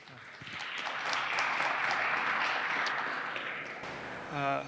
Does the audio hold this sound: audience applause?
yes